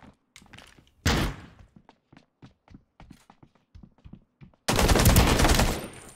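Turret gunfire in the video game Ring of Elysium: a burst of heavy shots, a run of sharp single reports, then a sustained loud volley near the end.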